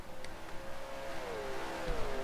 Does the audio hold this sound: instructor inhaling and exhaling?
no